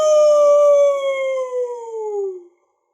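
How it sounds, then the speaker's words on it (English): A single loud, close howl in the style of a wolf holds a steady, clear tone, then slowly slides downward in pitch and cuts off abruptly, followed by silence. "The wolf pack howled all night."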